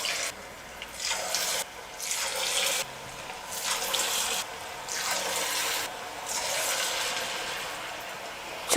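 Rice flour dough balls fry in hot oil, a steady close bubbling sizzle that surges and eases in waves as more pieces drop in, with no talking.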